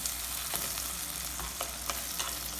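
Tomatoes sautéing in oil in a pan for fish curry, a soft steady sizzle broken by several sharp scrapes of a spatula stirring, close and fairly quiet with no voices.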